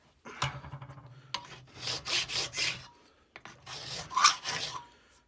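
The back of a Stanley blade holder is lightly flattened by hand in three short bursts of scraping, rasping strokes, close and fairly quiet, with short pauses between them.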